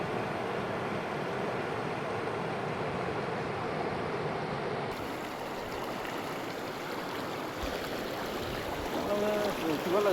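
River current flowing at an outdoor bathing spot: a steady broadband rush of moving water, fairly loud and unbroken, with a faint voice briefly audible near the end.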